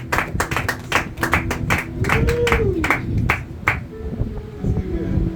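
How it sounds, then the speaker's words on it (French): A teacher claps hands in a quick, uneven run of a dozen or so sharp, close claps that taper off, while a voice speaks and sings over them. "même le prof acclame pour moi"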